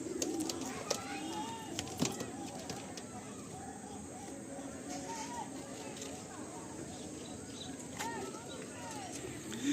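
Male Madrasi pigeons coo softly and intermittently amid a broad, steady background hiss, with a few sharp clicks and rustles; talk can be heard in the background.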